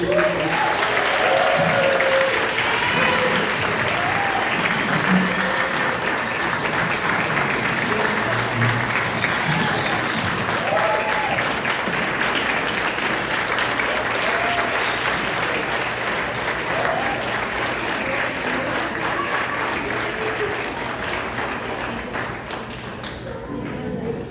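Sustained, loud applause from a large audience at an awards gala in the Edison Ballroom, steady and dense throughout before easing slightly near the end.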